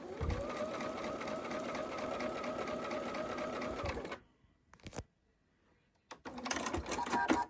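A sewing machine stitches quilt house blocks into a strip for a wall hanging, running with a fast, even mechanical whir for about four seconds, stopping, giving a brief burst, then starting up again.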